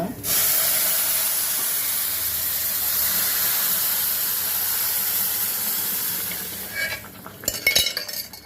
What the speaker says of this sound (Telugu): పప్పు తిరగమాత పెడతాను